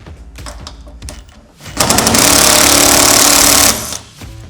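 A power tool drives and tightens break-off security bolts on a Legend SecuriLock van lock fitted to a RAM ProMaster, starting with short rattling bursts and then building into a loud, sustained whirring grind that stops abruptly near the end.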